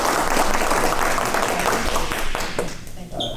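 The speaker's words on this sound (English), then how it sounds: "Let's give her another big round of applause." Dense audience applause at a presidents' conference breakout session holds strong, then tapers off near the end as the clapping thins out.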